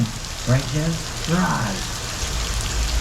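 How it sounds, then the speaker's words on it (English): Artificial rain from an overhead sprinkler system hisses steadily across a Universal Studios Hollywood tram tour set. The wide, even spray runs under brief voices exchanging a few words. "rain is created by a sprinkler system above you, pointed upward."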